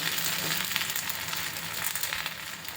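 Parata fries in oil on a pan over a medium flame, giving a close, steady, loud sizzle with soft crackles and no talk.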